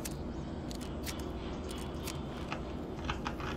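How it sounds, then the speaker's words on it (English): Soft clicks from someone nearby playing the computer game Chill Aquarium, faint scattered taps over a low background hum. "If you hear some clicking in the background, that's just my brother. He's playing Chill Aquarium."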